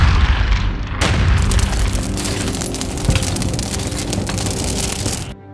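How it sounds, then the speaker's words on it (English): An IED explosion as a movie sound effect: a loud, close boom bursts out and rolls into a long crackling rumble of falling debris, then cuts off sharply. "the IED detonated."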